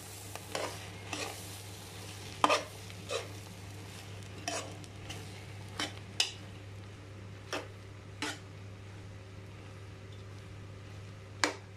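Bopis with vinegar is stirred in a frying pan, a utensil scraping and knocking against the pan every second or so over a soft, constant sizzle.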